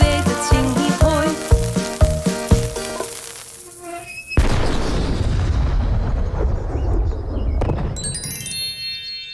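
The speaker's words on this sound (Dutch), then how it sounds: "Wow, dat kanon was echt te gek, Juf Roos." After a bright musical passage, a cannon fires with a sudden heavy boom that rolls into a long rumbling, crackling blast that slowly fades.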